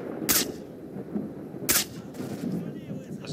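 Gunshots in the shooter S.T.A.L.K.E.R., two sharp loud single shots about a second and a half apart over a murmur of background noise.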